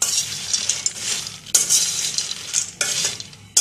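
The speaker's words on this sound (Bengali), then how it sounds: "এটাকে খুব ভালোভাবে ভাজতে হবে চুলাটাকে মিডিয়াম আঁচে রেখে" Peanuts fry in oil over medium heat while being stirred, giving a steady close sizzle broken by scraping and rattling strokes of the spoon in the pan, with no talking.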